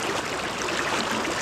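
Fast winter river water rushing past a steelhead angler wading mid-stream, a steady, dense, close roar with no pauses and no voices.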